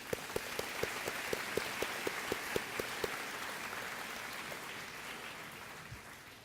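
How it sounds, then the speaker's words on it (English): Applause at a high school graduation ceremony, with a run of crisp, individual claps in the first half, then a steady, dense wash of clapping from a large audience across the hall. "How about a round of applause?"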